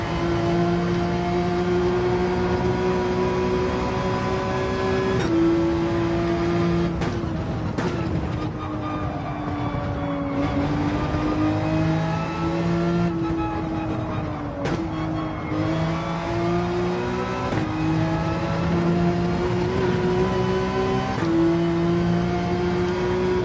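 Race cars start an official online race in Gran Turismo 7, engines droning and revving through gear shifts, pitch climbing and dropping, loud and steady for the whole stretch.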